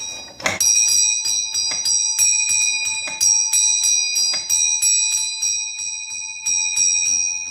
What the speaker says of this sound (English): when you just flick the cable it makes the bell vibrate